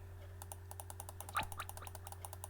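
A rapid run of light, evenly spaced clicks from a computer mouse or keyboard during an online game session, faint and close over a steady electrical hum, with no talk.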